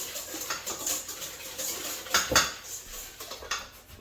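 Whisk clinking and scraping against a bowl while mixing coleslaw dressing seasoned with salt and freshly ground pepper, a quick irregular run of light metallic taps and swishes, close and fairly quiet, with no talking.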